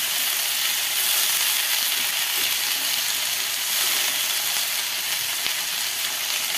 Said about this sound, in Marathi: आणि आपण हे परतून घेणार आहोत.